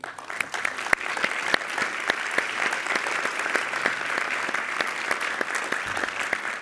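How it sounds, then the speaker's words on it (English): Audience applause at a Berlinale press conference, a steady roomful of clapping with distinct individual claps standing out, sustained and moderately loud for about seven seconds. "So please give them a big applause because they are part of our team."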